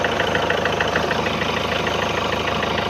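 Hyundai Santa Fe engine idling with a loud knocking, smoking and low on power after turbo work, a steady rapid rhythmic clatter close up with no talking.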